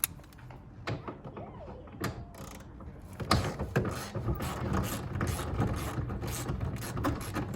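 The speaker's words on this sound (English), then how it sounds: "Get a smaller ratchet." Small ratchet working on the 14 mm bolt holding the front seat belt of an R32 GTR, with scattered clicks and then a steadier run of ratcheting and metallic handling close by, no voices.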